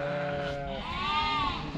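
Sheep waiting in a race before shearing on a farm give a few loud, wavering bleats close by, one after another with no talk.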